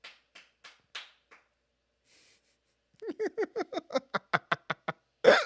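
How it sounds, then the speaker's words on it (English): A few soft, scattered claps give way to a steady run of about a dozen sharper claps, ending on one louder clap. "Please keep clapping."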